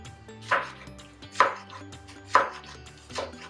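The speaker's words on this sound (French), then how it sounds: "on coupe vraiment tout simplement selon la grosseur qu'on désire" Vegetables for an omelette chopped with a knife on a board, four distinct, evenly spaced thuds, close and clear with nothing else under them.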